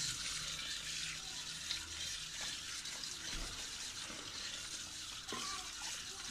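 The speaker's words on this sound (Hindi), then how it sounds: "अब हम इसे साफ पानी से धोएंगे।" Garlic being rinsed under clean running water, a steady faint gush and splash of tap water continuing throughout with small shifts as the cloves are handled.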